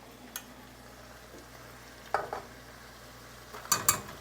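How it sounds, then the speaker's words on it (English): Cooked rice being stirred into a meat stuffing mixture for stuffed bell peppers, with a few brief scraping and clattering stirs against a quiet background, two clusters near the end. "let's start mixing in our other ingredients"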